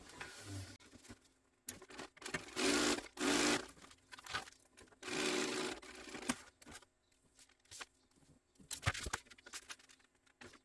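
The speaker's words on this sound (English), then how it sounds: "So let's sew these down." A sewing machine stitches down fabric pieces for a clutch bag in several short bursts of rapid whirring, separated by quiet pauses and light handling noises, close and moderately loud.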